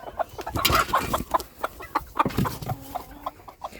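A broody hen clucks steadily up close, with busy rustling and other birds chattering around it.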